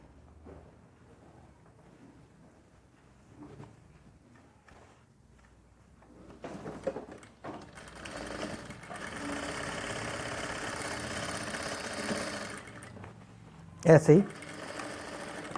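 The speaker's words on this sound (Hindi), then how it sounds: "इस साइड की सिलाई लगा लो। कपड़ा है वेलवेट का" A sewing machine runs steadily while stitching a seam in velvet fabric, a sustained mechanical hum for several seconds after quieter handling sounds, with brief talk in Hindi before and a short loud burst near the end.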